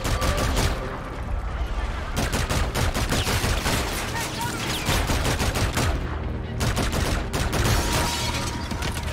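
Dense, sustained automatic gunfire from the video game Call of Duty: Infinite Warfare, rapid bursts layered over one another almost without pause, loud throughout, with a player's voice faintly underneath.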